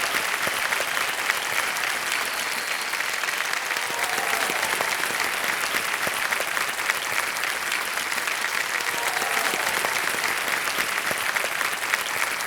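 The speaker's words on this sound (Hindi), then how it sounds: "जोरदार तालियां बज जाए इनके लिए।" A studio audience on the KBC game show, Season 14, claps steadily and loudly for a contestant who has won 3,20,000 rupees, a dense, sustained wash of applause with no talking over it.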